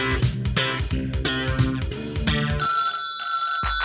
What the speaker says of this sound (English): Another fucking phone call.